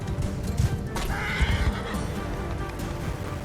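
A horse neighs in the video game Mount & Blade 2, a close, loud whinny rising mid-clip, with a few hoof clops and background game ambience.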